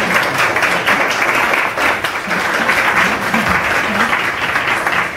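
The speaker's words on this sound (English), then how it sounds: "Nice to have just a hand of applause for Tuan." An audience claps for lacquer artist Tuan at a Hanoi presentation, a dense, loud, steady applause lasting several seconds with no pause.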